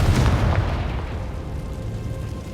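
A Confringo blasting spell goes off in Hogwarts Legacy, a loud, booming fiery explosion at the start that rolls into a sustained low rumble and crackle as it fades over a couple of seconds, with no talking.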